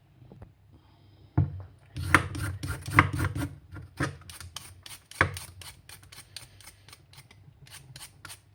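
A carrot chopped with a knife on a cutting board: a run of crisp, close knocks that starts slowly and then settles into a steady rhythm.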